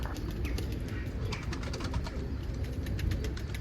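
Pigeons cooing steadily in a loft, soft repeated throaty coos overlapping from several birds nearby, with chirps mixed in and no speech.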